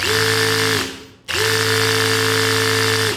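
A counterfeit Dewalt-style brushless cordless drill whirs loudly with a steady, buzzing motor whine, cuts out briefly, then runs again at the same pitch and level, with no voices.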